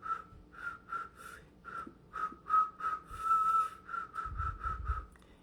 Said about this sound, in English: So I've been walking around like whistling.